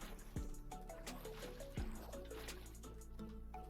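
In the Minecraft Vault Hunters game, a water bucket is placed with two short watery splashes and swooshes, layered over steady game music and background effects.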